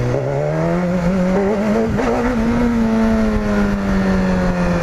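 A BMW S1000RR motorcycle accelerates hard in first gear, its engine note rising steadily and loudly with strong harmonics, close and continuous throughout with no talk.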